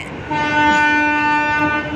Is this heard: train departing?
yes